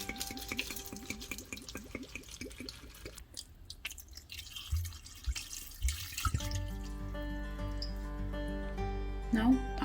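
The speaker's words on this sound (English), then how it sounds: "Now I'm adding in the water until it's submerged" Water pours and trickles into a pot of moringa (drumstick leaf) soup with garlic, pepper and cumin, a steady wet splashing under a talking voice, with music rising near the end.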